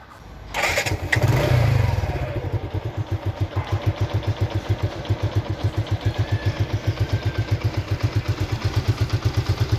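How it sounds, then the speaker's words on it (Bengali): A Suzuki Gixxer Monotone motorcycle, recorded close to the silencer, cranks and fires with a brief surge, then settles into a steady, evenly pulsing idle in neutral that continues to the end. "গাড়িটি নিউট্রাল অবস্থায়, সাউন্ড শুনতে পাচ্ছেন, ইঞ্জিনের সাউন্ড দেখুন, সাইলেন্সারের কাছ থেকে আপনাদেরকে সাউন্ড শোনানো হচ্ছে"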